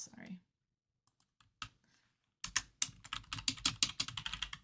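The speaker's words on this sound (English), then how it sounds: "I'll go ahead and just type this" Quick bursts of typing on a computer keyboard, a few isolated clicks first and then a dense run of rapid keystrokes, close and fairly quiet, with brief speech at the start.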